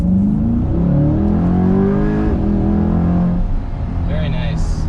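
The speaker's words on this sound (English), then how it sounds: "Nice acceleration, nice engine sound, quick shifts" A Chevrolet Corvette C8 convertible with a dual-clutch transmission accelerates hard, its engine note climbing in rising sweeps through quick gear shifts, loud and close from inside the cabin before easing off.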